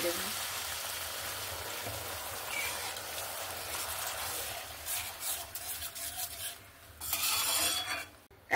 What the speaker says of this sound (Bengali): এবার আমি এখানে পরিমাণ মতন জল দিয়ে দেব।